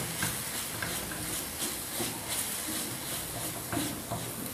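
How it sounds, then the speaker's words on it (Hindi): Coconut ladoo mixture stirred continuously in a pan, a steady scraping and hissing sizzle with soft repeated spoon strokes throughout, close and moderately loud with no talking. "हमें इसे लगातार इस तरह से चलाते रहना है, नहीं तो कोकोनट पैन के बॉटम में लग जाएगा।"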